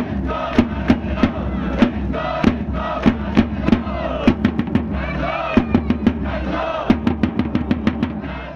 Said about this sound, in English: amazingly, the crowd had a cheer for each player.